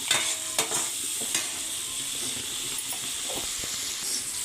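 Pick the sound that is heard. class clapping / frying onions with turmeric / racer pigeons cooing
frying onions with turmeric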